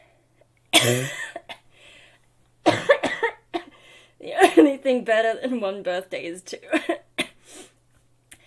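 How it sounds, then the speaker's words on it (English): A sharp close cough bursts out, followed by more coughing and throat clearing mixed with someone talking. "Yeah, I'm still coughing, which really sucks"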